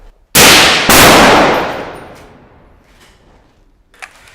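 Two loud rifle shots fired by special forces in the Philippines, the second hard on the first, each a sharp crack followed by a long rolling echo that fades over a couple of seconds, with a faint metallic clink near the end.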